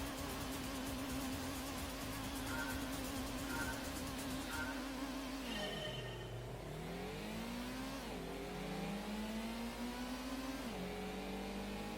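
Nissan Skyline GT-R racing engine in Gran Turismo on Special Stage Route 5, a loud constant whine that drops as it shifts, then climbs again through successive gear changes.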